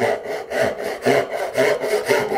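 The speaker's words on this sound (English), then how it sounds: "You go back and get the cross-cut saw, same one I used earlier." Hand cross-cut saw cutting through wood to form a tenon cheek, rhythmic rasping strokes at an even pace, close and clear, with no voices.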